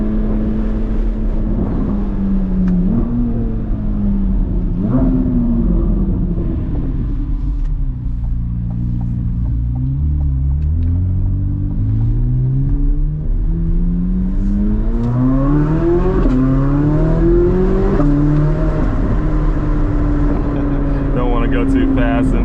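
Chevrolet Corvette C8 Z06 engine heard from inside the car on a public road, a loud deep rumble rising and falling through several gear changes as it accelerates, with a voice talking over it.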